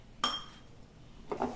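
Eno and milk are mixed into chocolate cake batter in a bowl. A sharp clink of a utensil against the bowl comes first, then a brief gap, then a quieter scrape and clink near the end.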